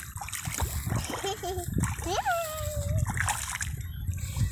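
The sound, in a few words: child splashing in mud and water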